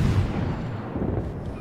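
Secondary guns fire in World of Warships during a battle involving the cruiser Atlanta, heard as a dense, booming rumble of overlapping gunfire with no talking.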